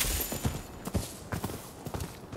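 Horse hooves clip-clop in the video game Rise of the Ronin, several distinct steady beats over a low ambient bed, fairly close and moderately loud.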